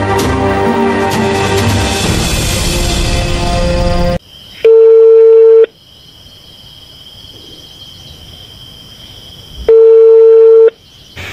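After a stretch of music, a telephone call is placed: two long, steady electronic ring tones sound clearly, separated by a quiet pause, with no voices.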